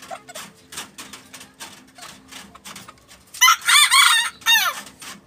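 A young pure Japanese Shamo rooster gives one loud, close, strained crow partway through, preceded by soft scratching and scuffling sounds with no talking.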